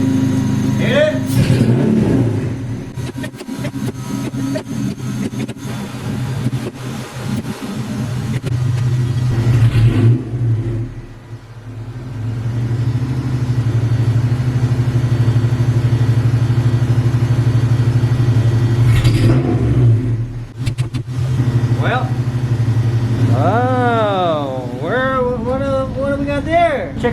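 A car engine idles with a deep rumble, then revs up and settles in several throttle bursts, with a voice speaking briefly near the end.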